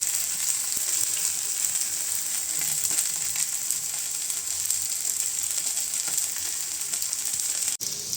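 Raw banana slices frying in hot oil in a pan, a loud, steady hiss and crackle that runs continuously without pause and without any talk.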